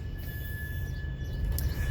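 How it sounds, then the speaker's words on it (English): A train rolls by near a bed and breakfast overlooking a river bridge close to a Harrisburg train yard, a steady low rumble with faint high ringing tones and no talking. "And there goes the train."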